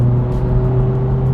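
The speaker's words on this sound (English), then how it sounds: "The K20 2-liter naturally aspirated inline-4 is the right engine for the job." Steady engine drone from a 2025 Honda Civic with the K20 2-liter naturally aspirated inline-4, holding an even pitch with a strong low hum and no clear rise or fall, close and loud.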